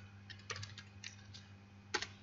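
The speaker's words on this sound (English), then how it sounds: "Let's type db.ninja.find," A handful of keystrokes on a computer keyboard as a MongoDB database query is typed, heard as short, irregular, fairly quiet clicks with pauses, ending in a quick double tap over a low electrical hum.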